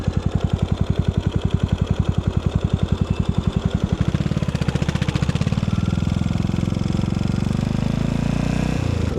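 Yamaha SR400 cafe racer single-cylinder motorcycle engine, first a loud, close, evenly pulsing thump that then rises in pace into a dense, continuous roar as it accelerates while riding.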